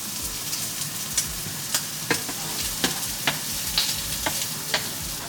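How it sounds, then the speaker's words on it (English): Prawns fry in a pan with a constant loud sizzle, while a utensil stirs them in repeated sharp scraping taps at an irregular rhythm, close up with no talking. "we'll stir the prawns around for a little bit longer"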